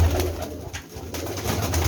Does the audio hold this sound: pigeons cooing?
yes